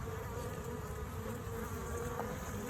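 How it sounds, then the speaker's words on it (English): Honey bees buzz inside a hobby beehive that was started from six frames of nurse bees, a steady, dense, close hum filling the whole stretch, with no talking over it. "Oh wow, you hear them? I've had 6 frames of nurse bees in here."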